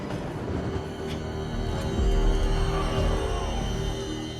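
A subway train in a film scene rumbles continuously with heavy low roar and faint clattering, steady and fairly loud throughout, swelling slightly in the middle, with no talk.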